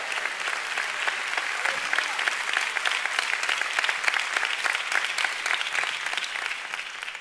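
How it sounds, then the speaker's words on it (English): A church congregation claps for the Lord in steady, sustained applause: a dense wash of many hands at an even level throughout, with no one speaking over it. "If you want to clap, give Him a big clap."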